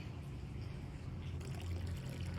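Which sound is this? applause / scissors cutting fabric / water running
water running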